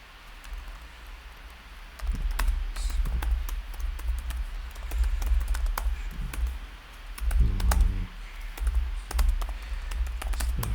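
Code being typed on a computer keyboard while writing an emulator for an nRF52840 chip: quick, irregular key clicks in short flurries and pauses, close and moderately loud over a low steady hum.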